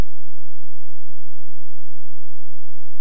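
Inside a Renault Megane 1.6 16V petrol car cruising at 100 km/h, a steady, even rush of road and wind noise with a faint low hum continues unchanged throughout, with no voices.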